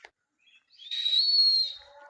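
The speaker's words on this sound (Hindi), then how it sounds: "ये तो मुंह से सीटियाँ मार रहा है।" A man whistles with his mouth: a single sustained, bright whistle note held for about a second after a brief faint start, fairly loud and close, with no talking over it.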